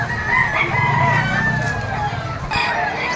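A ten-month-old stag, a young rooster, at a pet market in Malabon: one near, loud crow stretches over about two seconds, then a brief second call starts, over market chatter.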